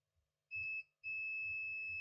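Two steady electronic beeps from a multimeter continuity test on a Lenovo IdeaPad S145 laptop board, a short one then a longer sustained tone, high-pitched and clear over faint low rumbling.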